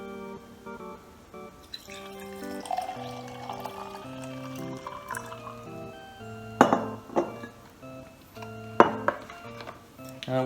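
Tea poured into a glass over ice, with tinkling clinks of ice cubes and glass, a trickle of liquid and a few sharper knocks, close and fairly quiet.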